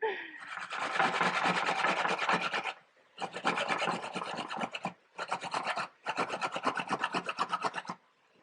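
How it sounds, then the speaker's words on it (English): Fresh organic baby carrots being grated on a double-edged grater that cuts in both directions, for an Italian zuppa. The rapid, steady rasping strokes are close and loud, coming in four bursts separated by short pauses. "I've got a double-edged grater here, so it actually grates in both directions, saving me half the time."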